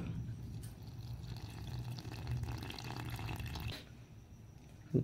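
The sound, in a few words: water being added to a spice mix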